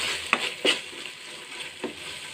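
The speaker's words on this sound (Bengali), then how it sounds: "সব কিছু দিয়ে ভেজে নিব।" Spices with turmeric and salt fry in hot oil, a soft continuous sizzle broken by a few sharp scraping stirs of a spoon in the pan, close and moderately quiet, with no talking.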